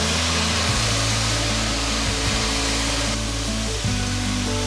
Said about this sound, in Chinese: 好，來翻炒。